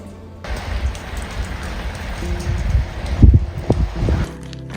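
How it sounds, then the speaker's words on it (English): Rain patters on the Camino de Santiago trail in Spain, a close, dense hiss of drops with rustling and a few louder splats as the shower rises and falls. "Day 8 on the Camino, and it's raining."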